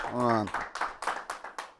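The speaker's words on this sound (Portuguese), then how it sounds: "Dá um aplauso aí que desperta." A small church class or Bible-study group claps in response to a call to wake up, a few scattered bursts of hand claps following a stretch of talk, fairly faint and uneven.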